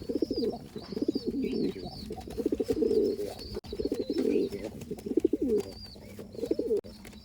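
Pet pigeons cooing close by, repeated rolling low coos in a steady series with short pauses, loud and clear against a quiet background.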